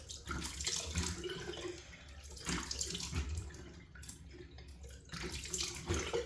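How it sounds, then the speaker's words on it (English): A tap runs steadily into a basin for a cold face rinse, a soft continuous hiss and splash with faint surges, fairly quiet and with no talking. "Right, cold water rinse."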